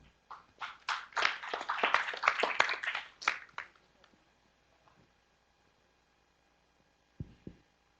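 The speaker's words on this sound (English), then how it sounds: "Please welcome Ms. Shita Laxmi. Our applause" Scattered audience applause at the closing plenary of an internet governance meeting: a few close, uneven claps build briefly, then thin out and stop by the midpoint, leaving near silence and a couple of soft low thumps.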